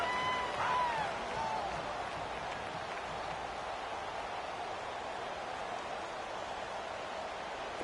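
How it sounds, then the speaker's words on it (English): Stadium crowd in an NFL football video game cheers and applauds ahead of a big third down, a broad, steady hiss of clapping and roaring that swells briefly at the start, then settles into a constant background wash. "The crowd getting into it as we come up on a big third down"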